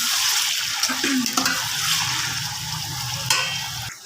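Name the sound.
chicken being fried golden for chicken pulao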